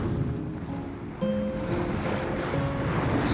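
A sailboat slipping through water at about six knots in a 10 to 12 knot breeze, with a steady wash of water and wind noise close to the microphone and faint tonal creaks over it; no one speaks.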